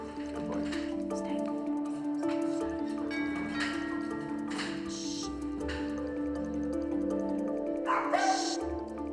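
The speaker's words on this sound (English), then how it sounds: "So that bark, normal, they're telling you" Dog barking in a home during a behaviour training session, a few separate barks and yips spread across the stretch, moderately close, with background hum and light clatter between them.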